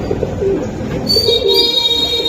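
Pigeons, giribaz and other breeds, coo nearby in soft, low throaty calls, with a brief high chirp joining toward the end.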